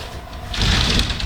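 A sliding door in a house hallway rolls along its track, a soft low rumble that grows louder and rougher partway through as it moves.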